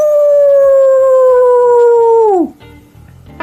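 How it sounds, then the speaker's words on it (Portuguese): A demonic werewolf lets out one long, loud, sustained howl with a steady pitch that sags and drops away at the end, followed by a brief lower rumble. "O lobisomem demoníaco uivou."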